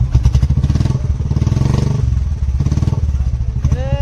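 A motorcycle engine, started with a kick start, runs loud and close with a rapid, even thumping beat and some mechanical clatter.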